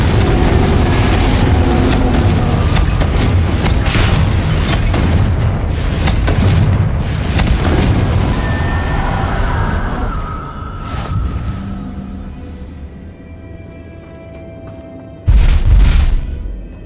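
Booming blasts from the Confringo fire spell in Hogwarts Legacy roar loud and dense for about ten seconds, then fade to a lower rumble before one more short, heavy burst near the end.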